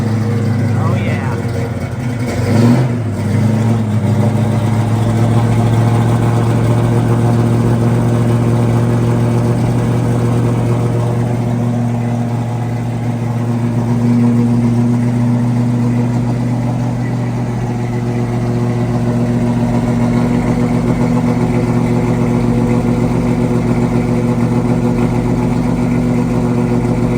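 A 1969 Chevrolet Camaro SS V8 idles loud and close with a deep steady rumble, a sharp rev bursting out early before it settles back into a continuous throaty idle, with a voice speaking briefly over it.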